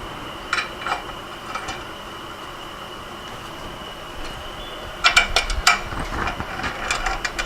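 Metal bolts being threaded by hand onto a Porsche 912 engine during a rebuild, giving faint ratcheting and metallic clicks early, then a louder cluster of sharp clinks and scraping taps in the second half.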